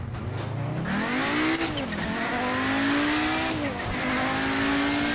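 A race car in Project Motor Racing screams through a lap, its engine pitch climbing steadily through the gears before dropping and rising again, loud and continuous with brief tire noise.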